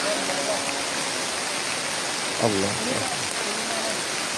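Steady rain pours down outdoors as a dense continuous hiss, with brief faint voices and tonal sounds partly audible beneath it.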